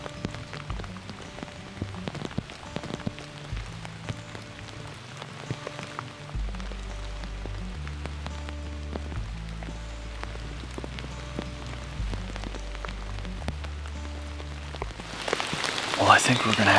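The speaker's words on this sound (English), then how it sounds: "It's been raining pretty good for the past hour or so" Steady rain hisses throughout in Pennsylvania woods, with scattered drops tapping nearby and a low rumbling hum underneath; the downpour grows louder near the end.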